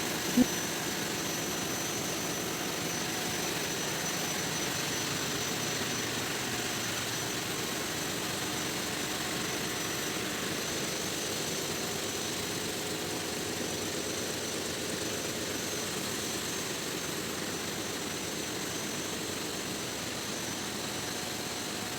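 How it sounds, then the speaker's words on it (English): A steady, loud mechanical roar of a ship's auxiliary generator engines in the engine room runs without pause, a dense droning hum filling the space with no voices. "auxiliary engines are used to generate electricity for lighting, communication, navigation, and other essential systems"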